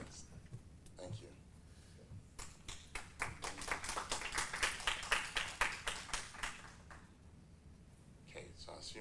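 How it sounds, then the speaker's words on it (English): Scattered hand claps at a technology conference on connecting Africa swell into a clear, rhythmic round of audience clapping, each clap distinct and moderately near, then thin out to a few stragglers at the end. "let's clap for 40 billion"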